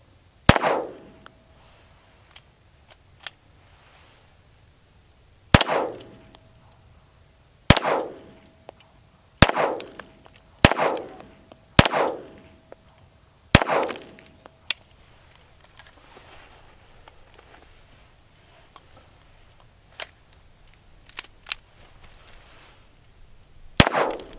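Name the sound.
handgun shots hitting steel rimfire targets on KYL rack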